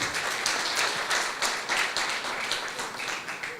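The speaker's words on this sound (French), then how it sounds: "Vous pouvez les applaudir" Audience applause at a legal technology conference in Casablanca, a steady wash of many hands clapping at a moderate, even level for a few seconds, with no voices over it.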